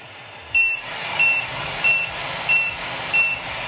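Reversing beeps from the sound effects module of a Tamiya MFC-03 radio-controlled truck, five evenly spaced electronic beeps over a steady synthetic truck engine hum, close and clear with no talking.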